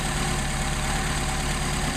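Car engine with Solex carburetors idling steadily, a close, continuous low rumble with an even pulsing beat and no talk.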